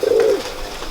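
A single short, low coo comes from a nearby almond-coloured pigeon, clear and alone with no talking.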